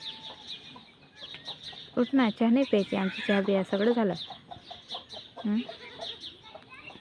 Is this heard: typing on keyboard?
no